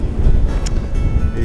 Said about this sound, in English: It seems to be getting windier.